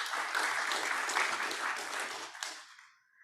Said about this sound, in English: Maybe a cheer for her.